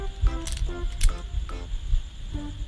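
A GoPro camera is clipped into a plastic buckle mount and fastened with a thumb screw, giving a series of close, sharp plastic clicks and taps with faint handling noise between them.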